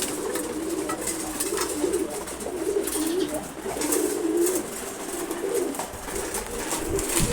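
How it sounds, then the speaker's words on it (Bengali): Several male pigeons, including racers and Giribaz tumblers, coo steadily in a loft, their low throaty calls overlapping continuously and fairly close throughout. "এখানে দেখেন এখানে সবগুলো নর কবুতর।"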